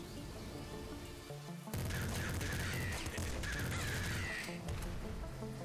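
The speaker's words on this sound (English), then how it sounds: "I know there's a bird somewhere nearby." A bird cawing in the video game Nuclear Throne, harsh repeated caws over a dense, loud layer of game gunfire and noise that lasts throughout.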